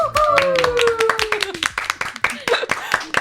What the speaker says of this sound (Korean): 뭔지 모르지만 박수부터 치고 시작하는.